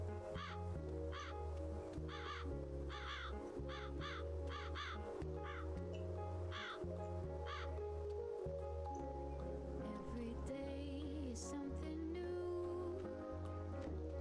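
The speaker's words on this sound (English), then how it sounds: "the bird. There's so many animals here." Crows caw in a series of loud, harsh calls, repeated in rhythmic bursts over a steady low hum of music or background noise, with a quieter stretch near the end.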